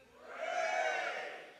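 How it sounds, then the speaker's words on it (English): A conference audience at a hackathon award ceremony lets out a brief swelling cheer, a blended crowd whoop rising and fading over about a second, heard from a slight distance. "Give me a cheer if you're an Apple user."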